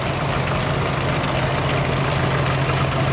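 A Nuffield tractor engine runs in the display ring at the 2012 Great Dorset Steam Fair, a steady, close, low throbbing idle that continues evenly without pause.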